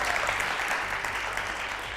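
A studio audience applauding on a television show, a dense, steady wash of clapping for a couple of seconds.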